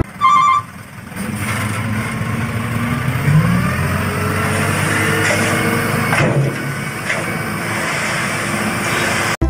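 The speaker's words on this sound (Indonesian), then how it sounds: "yang ini dump truk." A dump truck engine rumbles in a steady, gritty drone for about nine seconds, close and fairly loud, with no voices over it.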